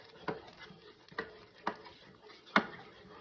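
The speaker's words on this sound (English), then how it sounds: "Now what you're gonna do, stir it all up" A spoon stirs apple pie barbecue sauce ingredients in a bowl, giving a few soft, separate scraping clinks at an uneven pace, faint and close, with no talking.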